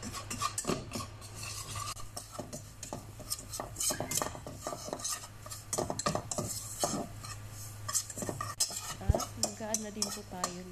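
Butter is stirred into browned flour in a pan, producing continuous scraping and clinking of a utensil against the metal with rapid irregular strokes and a soft sizzle underneath.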